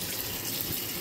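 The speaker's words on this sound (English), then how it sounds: "I've turned on the cold water tap also because we don't want the pasta to stick." Cold tap water gushes steadily over freshly drained mafaldine pasta in a kitchen sink, a close, even rushing hiss with no pauses.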